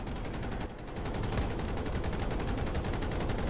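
Dense, rapid automatic gunfire from the video game Battlefield 2042 runs almost nonstop, close and loud, with a short dip early before the shooting picks up again.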